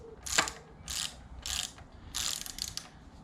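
A hand ratchet torques the bottom end of a TVR Tuscan engine in about five quick bursts of sharp, close clicking, separated by brief pauses in an otherwise quiet workshop.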